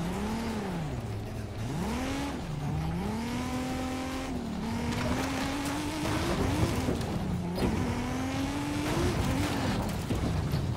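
A Toyota Supra's engine revs and shifts in Forza Horizon 5, rising and falling through the gears continuously, loud and close, with tire noise underneath and no talk.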